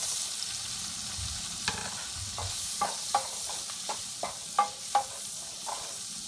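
Paneer, about 150 grams, frying in melted butter in a pan for capsicum paneer masala, giving a steady close sizzle with several sharp spatula clicks and scrapes as it is stirred.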